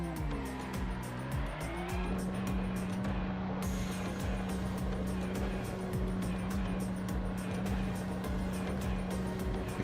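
A Porsche 911 race car in iRacing at Misano holds a loud, steady engine drone close up, with tire squeal, and music faintly underneath.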